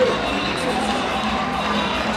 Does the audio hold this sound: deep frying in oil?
no